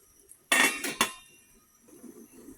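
A metal lid set down on a pot of boiling vegetables, two sharp clattering clanks in quick succession, close and clear in a quiet kitchen.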